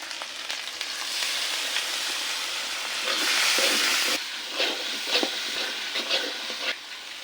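Meat frying with spices in a pan, a dense, continuous sizzle that swells louder midway, then turns into scrapes and stirring clatters against the pan, with no talk.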